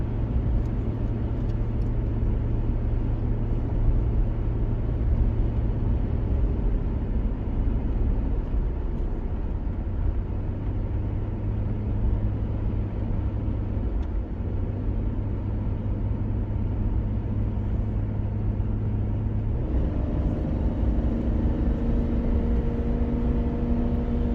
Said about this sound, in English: I don't know if you guys can hear the vehicle downshifting constantly, but it's working, that's for sure.